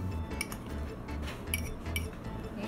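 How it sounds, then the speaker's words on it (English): A utensil stirring three doggie pizza ingredients in a bowl, giving repeated light clinks and scrapes in an uneven rhythm, close and fairly quiet, with no one talking. "all you have to do is mix them together"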